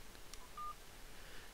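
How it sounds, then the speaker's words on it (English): A single short telephone dialing tone from a handset plugged into a Skype adapter, quiet and brief over a steady low hiss, with no talk. "I can actually pick up the phone and I can dial my friend, a Skype user."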